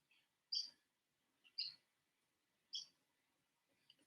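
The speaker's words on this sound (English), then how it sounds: "you don't mind listening to the birds." Birds sing outdoors in July, heard faintly from indoors: three or four short, high chirps spaced about a second apart against near silence.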